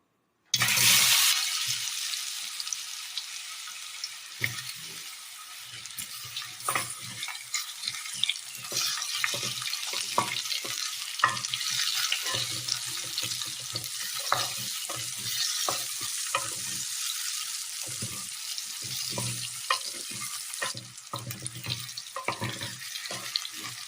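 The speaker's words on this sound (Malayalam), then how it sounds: "അതിലേക്ക് ചെറുതായി അരിഞ്ഞ പഴം ചേർത്ത് കൊടുക്കാം." Chopped banana fries in hot gingelly oil, giving a constant close sizzle and hiss with frequent clinks and scrapes of a spoon stirring the pan.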